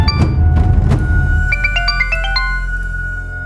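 Electronic phone ringtone during a call in a Hindi crime drama: a loud stepped melodic tone pattern that repeats over a low steady hum, heard alone without voices.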